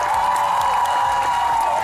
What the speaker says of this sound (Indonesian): Boleh kita berikan tepuk tangan ibu-ibu.